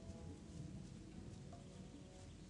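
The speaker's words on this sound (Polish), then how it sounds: "Przecież deszcz pada." Steady rain pours down in the video game Gothic, a dense, even hiss that holds unbroken for the whole stretch with no voices over it.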